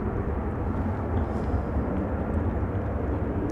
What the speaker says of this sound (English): airplane's taking off from runway 24.